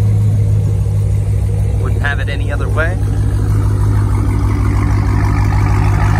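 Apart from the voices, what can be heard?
car engine revving and idling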